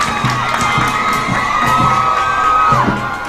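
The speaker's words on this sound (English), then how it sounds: "we hear the cheers from the crowd" A crowd cheers and shouts during Barbados Independence Day parade, with children's voices mixed in, and a long whistle or horn tone runs across the middle, as the Pathfinder Ministry of the Seventh-day Adventist Church display passes.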